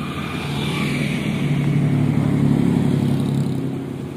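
A Suzuki pickup truck passes on a road with Indonesian bus traffic, its steady mid-range engine drone building to a peak and then easing off as it goes by at close range, with no talking.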